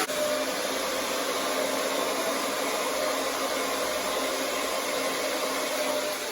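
A hair dryer blows steadily during a blow-dry, giving a loud, close, unbroken whoosh that stays level from start to finish with no voices.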